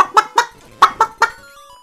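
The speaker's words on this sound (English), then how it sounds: "This chicken's got a hook shot." A chicken in the video game Zelda: Link's Awakening DX lets out five short, loud clucks in a quick, uneven burst, each a sharp squawk with gaps between, close and alone with no talking.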